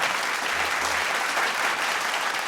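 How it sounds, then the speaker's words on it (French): A gala audience applauds loudly for volunteers at an association's tenth-anniversary celebration, a dense, even wash of clapping that fills the whole stretch without a break. "Vous pouvez les applaudir bien fort."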